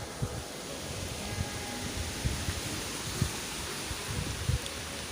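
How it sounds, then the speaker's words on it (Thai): A dry wind rustles leaves in a rural Thai village, making a constant, broad hiss with faint, irregular crackles and gusts close to the microphone. "ช่วงนี้มีลมแห้ง"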